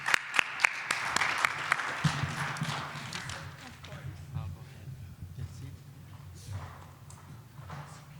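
Applause welcoming a panel speaker at a discussion on smart home privacy and security: a few sharp claps open, then a softer, thinning patter that fades out, with a voice speaking over the later part.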